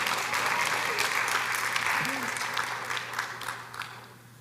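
Audience applause at a Students of Color graduation celebration, a steady wash of clapping that holds strong then gradually thins and fades, with some talk underneath.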